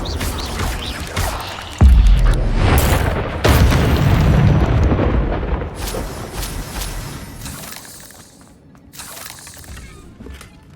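Incendio fire spell cast in Hogwarts Legacy, a loud booming burst followed by a second blast and a long rushing, crackling roar that fades away.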